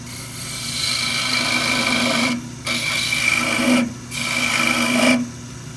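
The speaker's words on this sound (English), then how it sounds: "I'm going to come back with that little detail gouge." A detail gouge cuts a spinning wooden top on a lathe, making a steady raspy scraping in three long passes with brief pauses between them.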